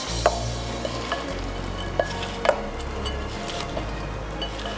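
Quinoa cucumber salad with lime juice gets stirred in a bowl, a soft continuous rustle broken by several light clicks and taps of the utensil against the dish, nobody talking.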